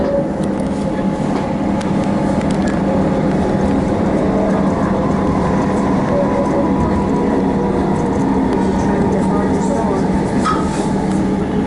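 A Melbourne Upfield line train rumbles steadily into Moreland station, heard from inside the carriage as a continuous loud low roar with faint clanks.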